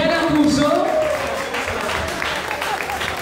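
Crowd at a club event in Greece bursting into sustained applause and cheering, a dense wash of clapping that holds steady throughout, with a voice shouting over it near the start.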